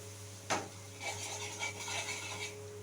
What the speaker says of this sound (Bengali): সমস্ত উপকরণ আমি খুব ভালোভাবে মিশিয়ে নিচ্ছি